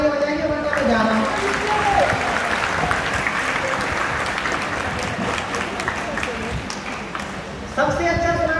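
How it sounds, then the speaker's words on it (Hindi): Audience at a Hindi heroic-verse poetry recital breaks into loud, sustained applause with crowd noise, filling the space for several seconds before a voice returns near the end. "अगर आप कुछ और सुनना चाहते हैं तो जोरदार तालियां बजाइए,"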